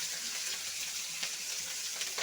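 Bay leaf, cardamom, cinnamon and whole cumin fry in hot oil in a pan, a continuous close sizzle with faint crackles, no voices.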